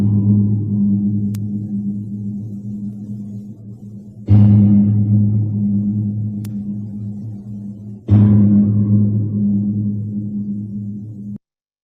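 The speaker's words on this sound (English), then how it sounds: "This is the sound of the sarcophagus." The stone sarcophagus inside the Great Pyramid is struck three times, each blow a sharp attack blooming into a deep, resonant hum that lingers and slowly decays before the next strike.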